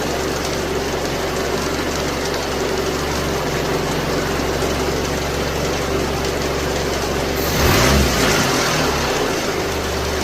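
The 2.4-litre engine of a 2004 PT Cruiser runs at a steady, loud idle with a low rumble. Near the end it gets a brief blip of throttle that lifts it into a short rev before it settles again.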